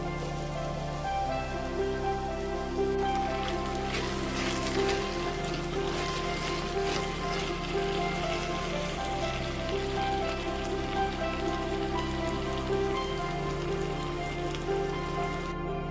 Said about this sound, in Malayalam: ഇനി ബാക്കിയുള്ള നമ്മുടെ സവാള അരിഞ്ഞു വെച്ചിരിക്കുന്നത് ഇതിലേക്ക് ഇട്ട് കൊടുക്കാം